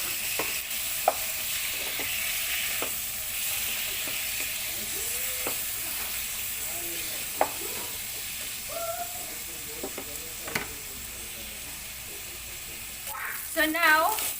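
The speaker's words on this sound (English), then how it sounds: "We have to saute our meat." Pieces of meat sauteing for Filipino pancit palabok, a steady sizzle running throughout with intermittent spatula scrapes and clinks, growing busier near the end.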